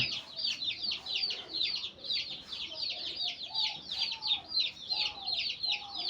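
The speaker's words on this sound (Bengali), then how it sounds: "আম্মুর জন্য যে মুরগি ছানা নিয়েছিলাম, এই যে মুরগি বাচ্চা।" Young chicks peep in a rapid, continuous high chorus while a hen clucks softly beneath them, close by and without speech.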